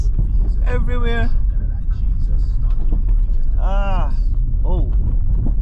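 A car with 15-year-old suspension rolls over a potholed road. There is a continuous loud low rumble and jolting under the whole stretch, with people talking over it.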